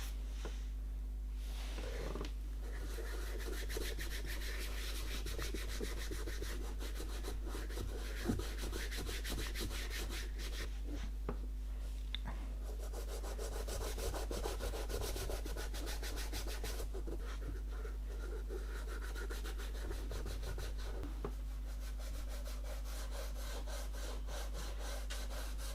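Conditioner being rubbed by fingertip into Gucci leather loafers, soft close scratchy rubbing strokes continuing quietly over a low steady hum, no talking.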